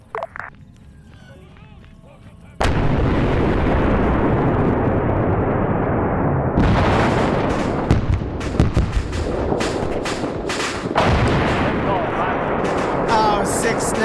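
Airstrike explosions in a multiplayer PvP military game: after a quiet start, a sudden loud blast launches continuous heavy rumbling, followed by a second wave of sharp repeated detonations and cracks, with talk partly under the barrage.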